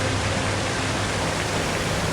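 A powerful waterfall roars in a dense, unbroken wash of rushing water, loud and steady throughout with no voices or other sounds.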